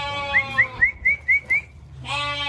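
Sheep and lambs bleat near a maternity pen, with a rapid series of six short, high, wavering calls followed by a longer, louder bleat after a brief pause.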